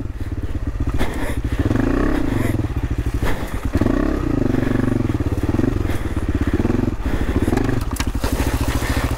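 An AJP PR7 motorcycle on a first test ride roars loudly and steadily up close, the engine pulsing and rising in pitch with brief dips between throttle bursts and rattling clatter over a rough track.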